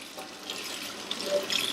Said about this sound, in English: Are you ready for your bath, Copper?